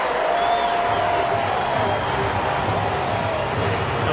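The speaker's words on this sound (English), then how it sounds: "I love the crowd response." A large baseball stadium crowd roars in a steady, dense wash of cheering that holds at full volume throughout, with a faint whistle rising above it.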